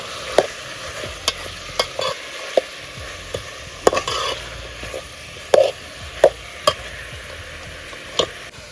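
A spoon scrapes and clinks through chicken coated in coriander-garlic paste in a pan, sharp irregular knocks over a low, steady sizzle, close up, with no voices.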